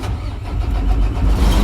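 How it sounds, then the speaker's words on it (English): A commercial truck engine cranks and starts up during a pre-trip safety check, catching into a deep, loud rumble close by with no talk over it. "Start up the truck."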